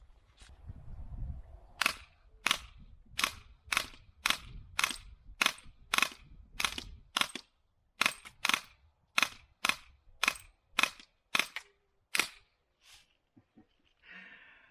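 A Heckler & Koch HK416 BB rifle fires CO2-powered shots, about fifteen sharp evenly spaced pops close by in steady succession, following a brief low breathy rustle at the start and trailing off into faint handling sounds.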